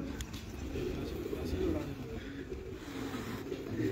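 Pigeons cooing in a rooftop loft, soft low throaty coos blending with a murmur of nearby voices and steady background noise.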